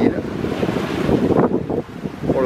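Wind and sea waves aboard a sailboat along the north coast of Batam, Indonesia, in the Strait of Malacca on a fine day: steady loud wind rush with water sloshing against the hull, close and continuous.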